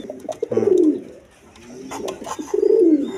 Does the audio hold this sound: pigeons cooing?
yes